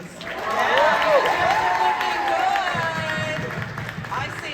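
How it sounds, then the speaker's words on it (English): Convention opening-ceremony crowd claps and cheers for itself, a sustained roar of applause with whooping and shouting voices rising and falling across the hall. "Now give yourselves a round of applause."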